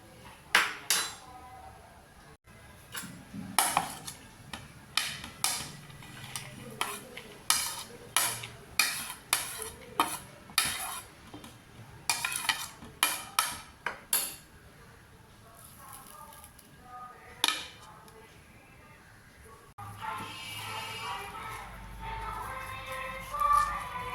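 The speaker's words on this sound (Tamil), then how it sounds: "இது வந்து இந்த சப்பாத்தி மாவில் போட்டு பிசைஞ்சிடலாங்க." Ragi chapati dough kneaded by hand in a bowl with grated potato and cumin, giving close, uneven clicks, pats and soft clattering that come in bursts and then settle into a steadier, quieter working rustle.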